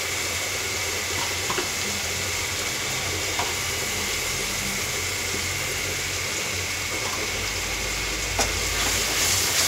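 Prawns fry in a spice masala in a pan, giving a steady, loud sizzle with occasional sharp crackles and pops over a low background rumble.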